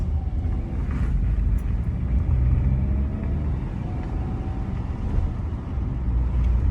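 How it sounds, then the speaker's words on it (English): A car being driven by someone learning stick shift gives a steady low engine and road rumble throughout, with no clear shifts or other distinct events. "this man is learning how to drive stick shift"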